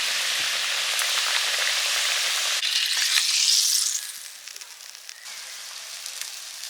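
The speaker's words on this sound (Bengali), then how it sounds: "মাছের ঝালটা প্রায় হয়ে আসছে কড়াইতে কাঁচা সর্ষের তেল দিয়েই সঙ্গে সঙ্গে নামিয়ে নিচ্ছি" Steady, loud sizzling of a spicy fish curry in mustard oil in a pan, continuous hiss that softens partway through as the heat drops.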